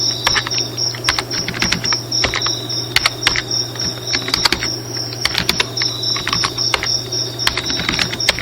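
Typing on a computer keyboard while coding a Flutter calendar date picker: rapid, irregular bursts of crisp key clicks close up over a steady background hum and a high insect-like whine, without speech.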